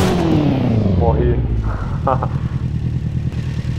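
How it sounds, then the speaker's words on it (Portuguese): A four-cylinder Suzuki Bandit 650 motorcycle engine in a video game settles from a falling whine into a steady, throbbing idle, close and fairly loud, with a few light clatters. "A moto parada, olha o som de 4 cilindros, ó."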